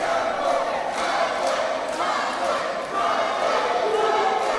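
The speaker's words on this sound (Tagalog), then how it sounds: "I don't know what the crowd are shouting. They're shouting John Paul." Boxing arena crowd at a John Paul Gabunilas fight, a steady dense roar of many voices chanting and shouting his name, loud and continuous throughout with brief swells.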